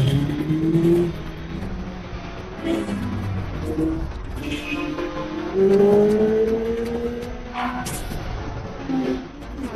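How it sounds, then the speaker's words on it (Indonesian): A motorcycle engine revs and surges in rising, wavering tones during a film chase scene, loud and close, swelling and falling across the whole stretch with some background clutter. "Ethan kemudian mengambil sepeda motornya dan pergi mengejar Ilsa"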